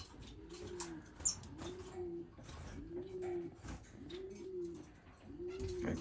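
Pigeons or doves kept in an indoor bird room for breeding coo in a steady, repeating rhythm, five soft low calls evenly spaced, close and gentle with faint chirps and rustling around them.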